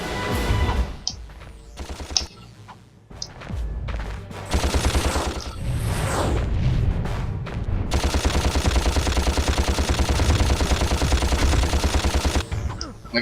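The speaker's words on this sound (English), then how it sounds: "since you can shoot him from this far away" Rapid gunfire from a boss battle in the Ratchet and Clank video game, loud and continuous bursts of automatic shots with brief pauses, ending in a long sustained volley.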